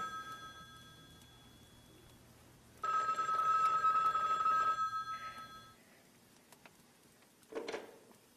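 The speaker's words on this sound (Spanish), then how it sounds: "Lo primero fue la llamada telefónica." A telephone rings in a quiet home interior, one long electronic bell burst of about three seconds, fairly loud and close, followed by stillness and a brief faint ring later.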